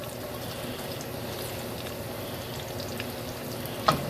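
Steady hiss of food frying in a very hot pan while making a simple marinara sauce, continuous and close, with a brief clink near the end.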